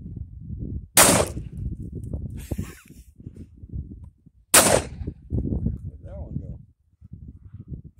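Two sharp shotgun blasts, about three and a half seconds apart, from a Tristar Upland Hunter 12 gauge over-under shooting at cans outdoors, loud and close, with people talking between and after the shots.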